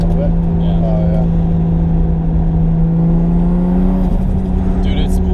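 A turbocharged Toyota JZX100 Chaser engine drones loudly and steadily from inside the car under boost, with a rising spool whine near the end and brief voices in the background.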